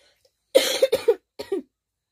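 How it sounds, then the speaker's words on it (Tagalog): A person with a lingering cough coughs three times in close succession, loud and near, followed by two softer coughs after a short pause, with silence around them. "Kasi may konti pa tayong ubo."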